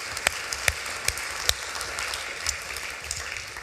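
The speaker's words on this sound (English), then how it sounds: "But a big applause to both of you." Conference audience applauding at a morning session in Berlin, a steady wash of many hands clapping with a few sharper claps standing out, moderate level and continuous throughout.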